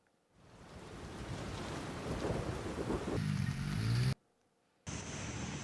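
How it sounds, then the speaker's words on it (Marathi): Heavy overnight rain pours down on Pune city, a dense, loud, continuous roar of falling water that cuts out briefly near the end and then resumes. "पुणे शहरात रात्रभर जोरदार पावसाची हजेरी"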